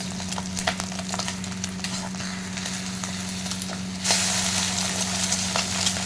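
Egg poach sizzles and fries in a pan with the yolk broken, a steady crackling hiss over a low hum that grows suddenly louder and brighter partway through, with no one speaking.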